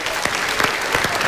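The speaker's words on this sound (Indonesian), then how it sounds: "kita berikan tepuk tangan Pak Rudi." A studio audience applauds Pak Rudi on the Mario Teguh Super Show, a dense, loud, continuous clapping crowd.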